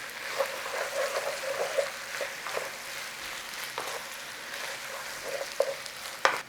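A spoon stirs mashed potato through a little sauce in a pan, with soft scraping strokes over a gentle, continuous sizzle and a few sharper knocks near the end, no voices.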